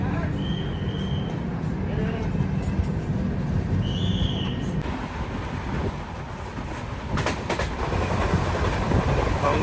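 A train runs along the Konkan Railway with a continuous rumbling roar and rhythmic rail clatter heard from on board, while voices talk faintly underneath.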